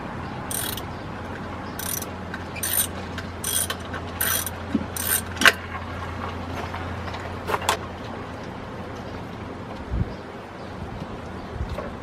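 Ratchet with a 10 mm socket turning a bolt on a Holden VZ Alloytec engine, several bursts of close, sharp clicking ratchet strokes in a quiet garage.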